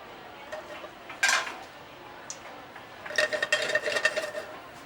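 Potatoes tossed with crushed garlic drop into a hot pan, a burst of clattering and sizzle followed by steady frying hiss with metallic pan and utensil clinks, fairly close.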